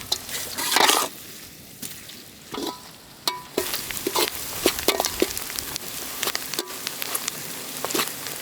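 Chopped onions hit a hot pan already holding chickpeas and sizzle loudly, then keep frying while being stirred in irregular scraping bursts, close up in an outdoor village kitchen, with no talking.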